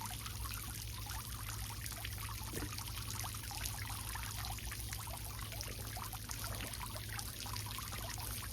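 A garden pond pump, just plugged in, moves water in a faint, steady trickle and splash over a low constant hum, quiet and unbroken, with no voices.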